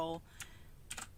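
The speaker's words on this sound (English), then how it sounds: "or keyboard shortcut is Control" Quiet computer keyboard clicks as a shortcut is pressed, two or three soft keystrokes after a brief voice.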